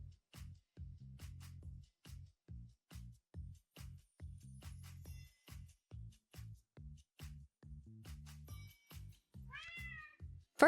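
A cat meows repeatedly in a steady rhythm of short, close calls, about two per second, with a few higher chirpy sounds near the end.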